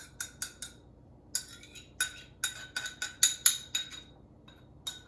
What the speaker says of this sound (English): I like to give this a quick stir.